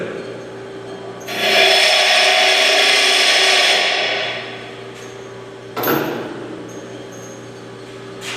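A piece of high-speed steel is pressed against a running grinder for a simple spark test, giving a loud rasping grind of a few seconds over a steady motor hum, then a shorter second touch.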